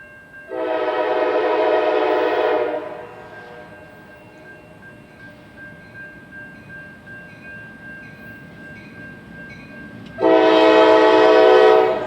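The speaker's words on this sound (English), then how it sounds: "the entire train creeping up the connection to the NS" A Norfolk Southern-bound freight train creeps up a junction connection, sounding two long horn blasts at the start and end, with a steady rolling rumble of railcars in between.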